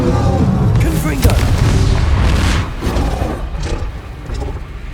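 Confringo spells burst in booming blasts during a Hogwarts Legacy battle, loud and continuous, rumbling over a voice shouting spell names.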